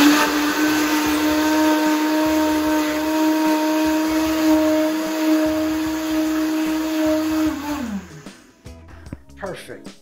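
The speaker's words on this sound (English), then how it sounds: "Chopped mango in the blender with our soursop cane combination here." A blender whirs loudly at a steady pitch for several seconds, blending chopped mango with soursop and sugar cane leaves, then winds down and stops, followed by a few faint clinks.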